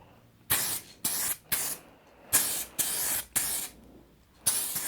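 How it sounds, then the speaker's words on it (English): An aerosol can sprays brown paint onto the timber cabinet of a 1946 STC 548 tube radio in seven short, close hissing bursts separated by brief pauses. "With this new spray, we'll see what this looks like"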